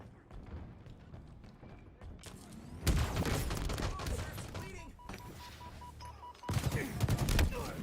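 Rapid bursts of gunfire from a first-person shooter game, volleys of loud shots in clusters over game sounds, with a voice talking now and then.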